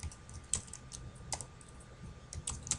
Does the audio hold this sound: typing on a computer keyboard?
yes